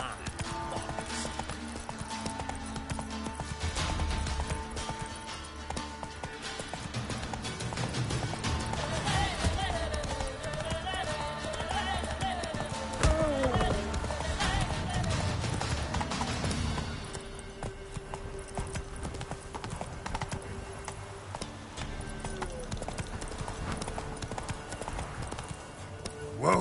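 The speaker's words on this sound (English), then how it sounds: "Whoa there, Roach." The horse Roach gallops in The Witcher 3: Wild Hunt, rapid clip-clop hoofbeats running steadily under game music and voices, with a neigh partway through.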